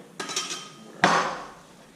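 A knife slicing through a lionfish sushi roll on a board, giving two sharp close cuts about a second apart, each followed by a short scraping tail, with no talk.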